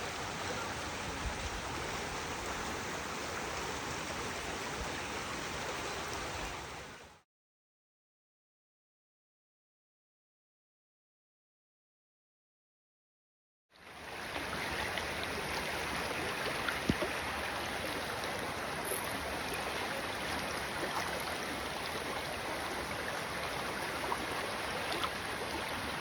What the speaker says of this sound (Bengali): সব ঝর্ণার পানিগুলি দিক দিয়ে আসতেছে।